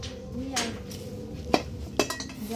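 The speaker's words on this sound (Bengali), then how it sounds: "তো কাঠা আগুন ধরে গেছে এখানে, এবার বসানো হবে কড়াই" A metal wok is set onto a wood fire, giving a few faint clinks and knocks of metal over quiet background noise.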